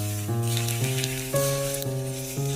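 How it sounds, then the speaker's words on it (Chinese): Hot oil poured over minced garlic and toasted sesame seeds in a bowl, giving a faint, steady sizzle with soft crackles throughout, with no talking. "然后淋上烧开的热油爆香"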